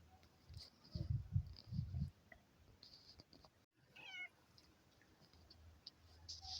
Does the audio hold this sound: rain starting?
no